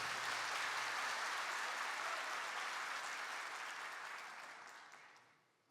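Audience applause rings out at a Turkish municipal event as a Bilecik mayor is invited to the podium, a dense steady wash of many clapping hands that holds strong, then thins and fades at the end.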